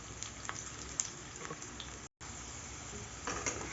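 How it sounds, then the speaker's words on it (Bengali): Potatoes frying in a pan for a mixed-vegetable moong dal, a soft steady sizzle with small crackles and pops, faint and close, with a momentary dropout midway. "আলুগুলো কিন্তু আমি বেশ লাল লাল করে ভেজে নেব।"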